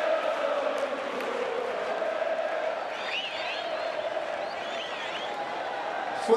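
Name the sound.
crowd applauding at farewell tribute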